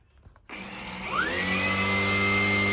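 A Shark cordless PowerDetect vacuum cleaner switches on suddenly and runs loud and close, its brush bar motor whining as the pitch sweeps up and then holds a steady, high hum.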